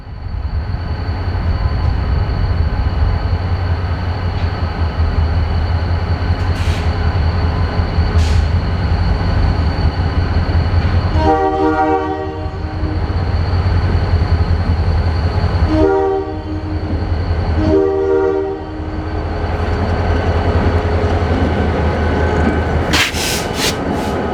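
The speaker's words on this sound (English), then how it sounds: "we can hear the detector being triggered as the patch's colorful consist passes through" A freight train rolls steadily past close by, its loud continuous rumble broken by repeated electronic tones from a trackside dragging equipment detector.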